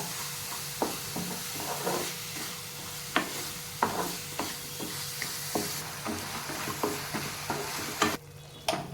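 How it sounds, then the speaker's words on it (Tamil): Jaggery melting in a pan for coconut burfi is stirred without pause, making rhythmic scraping strokes over a continuous soft sizzle, close and moderately loud. "இப்போ இந்த வெல்லம் முழுமையாக நமக்கு நல்லா கரையணும், அந்த அளவுக்கு நம்ம கைவிடாமல் கிண்டிகிட்டே இருக்கணும்"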